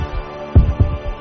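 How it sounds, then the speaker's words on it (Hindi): A horror-story heartbeat effect gives deep, close thumps in a lub-dub pattern. Several beats land in quick succession, loud and low, with no voice over them. "सुहेल की धड़कनें बढ़ती जा रही थी।"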